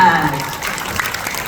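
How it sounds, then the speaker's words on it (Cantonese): Audience applause fills a small black-box theatre concert hall in thanks to venue staff, a steady dense wash of clapping at moderate loudness with a voice faintly present underneath. "咁我哋而家想就借你哋大家嘅掌聲啊，同我哋一齊多謝下佢哋。"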